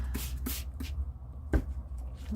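Coffee sprayed onto paper in short bursts from a spray bottle: several quick hissing puffs, close and quiet, spaced irregularly, with a soft handling knock between them.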